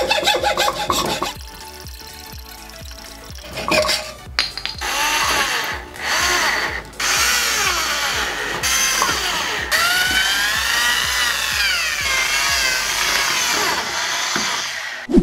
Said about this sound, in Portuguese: Eu vou agora cortar esse excesso de cabo aqui, que ele tá me atrapalhando